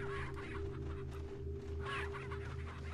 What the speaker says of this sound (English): Chickens! I like chickens, Eddie.